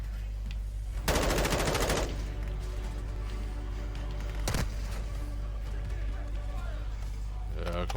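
Handgun fire in Call of Duty DMZ, with a rapid burst of shots and later a single sharp report over steady game background noise.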